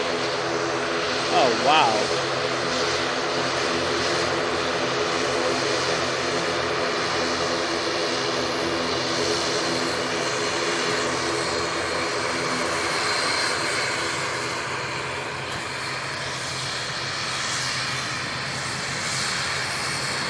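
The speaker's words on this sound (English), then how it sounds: "And we've got a prop coming towards us now." An Aer Lingus propeller aircraft approaches at Manchester Airport, its engines building into a loud, sustained roar with a droning prop tone that eases slightly toward the end; a voice briefly exclaims early on.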